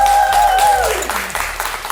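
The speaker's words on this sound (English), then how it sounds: "Give yourselves another round of applause." A studio audience claps as a loud musical tone fades out, with scattered hands pattering through the rest of the clip.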